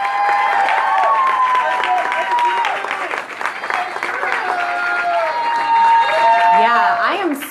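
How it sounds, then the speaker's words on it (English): An audience breaks into loud applause and cheering, dense clapping sustained throughout with whoops and shouted voices layered over it, close and energetic. "Give them a round of applause."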